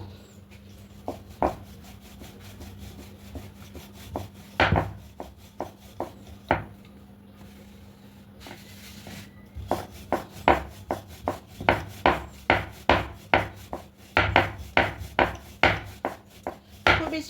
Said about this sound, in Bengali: দিয়ে একটা বড় রুটির মতো প্রথমে বেলে নেবো